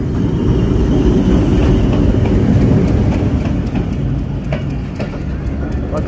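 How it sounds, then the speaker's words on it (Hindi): Pakistan Railways Kohat Express train, pulled by locomotive number 8321, arriving at a station platform, a loud steady low rumble with faint clicking of wheels, continuous and close throughout. "ये स्टेशन है जी और ट्रेन आ गई सामने से अभी।"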